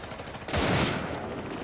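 Gunfire in a war film battle scene between Georgian special forces and Russian troops: a sudden loud burst of rapid shots about half a second in, fading into a rumbling reverberant tail.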